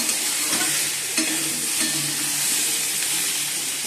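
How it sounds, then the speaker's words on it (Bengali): Pumpkin and potato curry fries in a pan, a close steady sizzle broken by several scraping stir strokes. "একটু ভালো ভাজা করছি"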